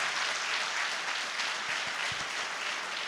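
Church congregation applauding together, a steady broad wash of clapping from many hands that holds evenly from start to finish with no voices above it.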